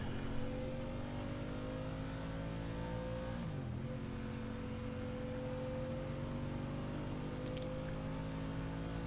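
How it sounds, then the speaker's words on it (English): Vehicle engines in Genshin Impact rev continuously, a steady sustained drone with a brief dip in pitch midway before climbing back to a constant moderate roar. "Rev the engines."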